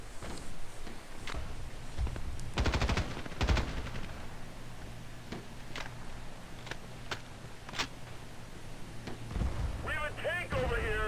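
Assault rifle fire in the online shooter Battlefield Play4free, with scattered short bursts and single sharp shots over a low ambient hum, some closer and louder, some fainter, and brief game radio chatter at the end.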